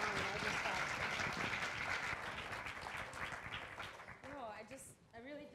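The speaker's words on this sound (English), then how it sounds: "a round of applause for the Theater of Public Policy" Audience applause at a live unscripted theater show, a dense wash of clapping that thins out over several seconds as voices and laughter begin to emerge near the end.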